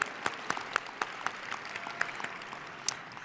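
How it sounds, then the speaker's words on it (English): Audience clapping for children's performance at a city Black History program, thin and fairly faint with individual sharp claps standing out in an uneven, sparse rhythm. "Let's give those kiddos another round of applause."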